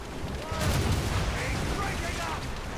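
Naval cannons fire in a sea battle in Assassin's Creed Rogue, a dense, loud rumble of booming shots that swells after half a second and rolls on steadily under game noise.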